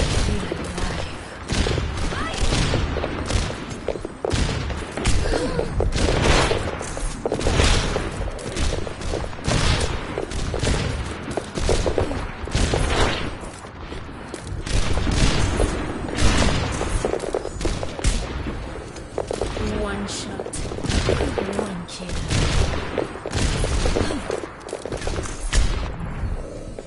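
Dense, continuous gunfire and bursts of shooting from a PS4 video game fill the whole stretch, loud and close, with frequent sharp reports overlapping one another.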